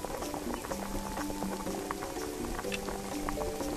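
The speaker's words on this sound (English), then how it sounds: "waiting for the chupa to boil" A chocolate drink bubbling in a pot in the VR cooking game Lost Recipes, a steady close simmer of small pops and patter with no talking.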